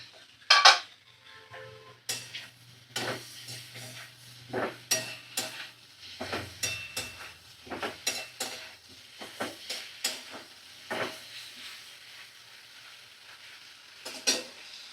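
Food frying in a pan on a home stove for a winter recipe served with dal and rice, with a steady low sizzle under repeated close spatula scrapes and metallic clinks against the pan.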